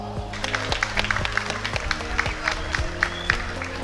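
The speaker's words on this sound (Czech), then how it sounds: "Dámy a pánové, velký potlesk" Audience applause greets a speaker arriving at a party event, with rhythmic clapping and crowd noise over a low music bed.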